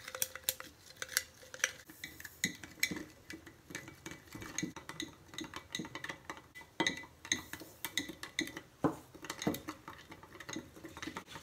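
A baby soap mixture is stirred slowly in a pot, giving quiet, irregular scraping and light tapping clicks of the utensil against the sides over several seconds.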